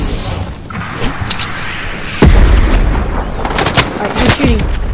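Video game gunfire in an online shooter match, with several sharp booming shots and short bursts scattered across the clip, mixed with game ambience and players' voices talking over it.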